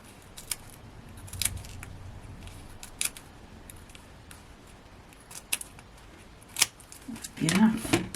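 Scissors snip through small craft card pieces for a gnome bouquet card, giving a few scattered crisp cuts spread apart and a busier cluster of snips near the end, all fairly quiet and close.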